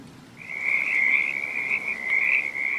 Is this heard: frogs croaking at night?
yes